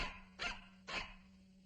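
A dog barks twice, two sharp close barks about half a second apart over faint background hum.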